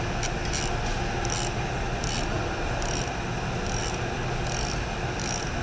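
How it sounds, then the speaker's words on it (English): An injector cap is tightened down and torqued, giving repeated ratcheting clicks in short regular bursts over a steady mechanical hum. "And with this cap tightened down and torqued to proper spec"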